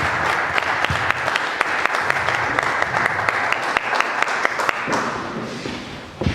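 Sustained applause from an audience at a lecture on the Mixtón War and the Chapala wars, welcoming Dr. Roberto Pérez; dense, steady clapping with sharp individual claps standing out, fading slightly near the end.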